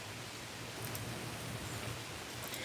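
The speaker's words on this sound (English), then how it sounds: "This rain need to go somewhere." Steady rain falling outdoors, a dense even hiss of drops on surfaces with no other sounds, moderately loud throughout.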